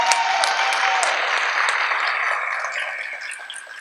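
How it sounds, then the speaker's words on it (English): Audience applause for graduating scholarship students at a senior awards event, a steady wash of clapping that slowly thins and fades, with a brief tone near the start. "I think we should probably give them a round of applause"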